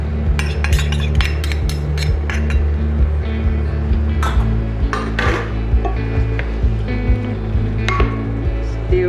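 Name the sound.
stirring snow peas and shrimp with sauces in pan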